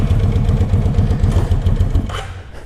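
A 2003 Kawasaki Vulcan 750 motorcycle engine running on choke, close and loud with a rapid, uneven low thumping that fades slightly toward the end.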